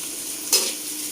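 Okra (bhindi) frying in a pan, a steady soft sizzle with one brief scraping stir in the middle, close and fairly quiet, no voices.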